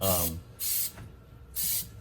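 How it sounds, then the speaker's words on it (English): Three short hissing sprays of non-stick cooking spray from an aerosol can onto a Tupperware TupperWave Stack Cooker, evenly spaced, close by, with a faint voice at the start. "I prefer to go ahead and use the non-stick spray in this"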